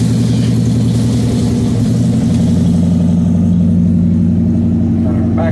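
A car engine idles steadily just after starting, a loud, constant low throbbing hum that holds level throughout with faint higher rattles on top.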